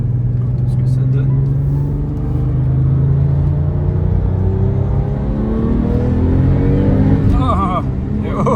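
A Porsche Turbo accelerating on a test drive, its loud, close engine drone rising steadily in pitch through the gears, with an exclamation from the driver near the end.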